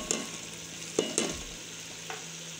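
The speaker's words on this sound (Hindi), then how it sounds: "और इसको करेंगे अच्छी तरीके से मिक्स, और अच्छी तरीके से करेंगे इसकी फ्राई।" Chopped onions and green chilies frying in a pan for a tendiayan gosht dish, a soft steady sizzle broken by a few sharp utensil scrapes and knocks of stirring.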